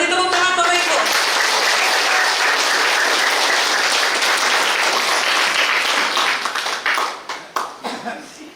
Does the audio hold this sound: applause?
yes